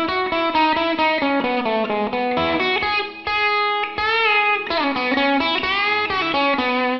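A distorted electric guitar plays the quick melodic first-guitar riff of a song, picked notes loud and upfront, with a short pause midway.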